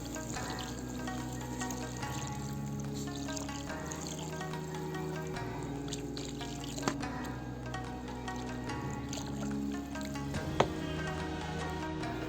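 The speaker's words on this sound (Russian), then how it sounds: "Я лью 4 литра воды в казан и дождусь кипения." Water pouring into a kazan over a wood fire while making mastava, an Uzbek soup, a faint continuous trickle and splash running steadily throughout with a few small clinks, no talking.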